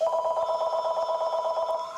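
Hospital telephone ringing, a steady electronic trill pulsing rapidly and evenly for two seconds, loud and close with nothing else over it.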